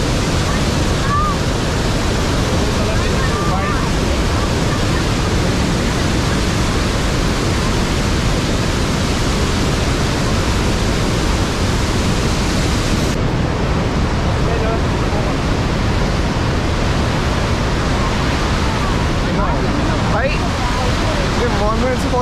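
Rushing water roars loudly and constantly at the top of Montmorency Falls near Quebec City, a dense close-up torrent, with faint voices occasionally audible beneath it.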